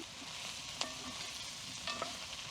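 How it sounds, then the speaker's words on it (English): Bacon and mushrooms frying in a pan for a wild game dish cooked on the coast, a soft steady sizzle with two or three sharp utensil knocks, quiet and close, with no talking. "So all the bacon's going in there now and mixing up with the mushrooms."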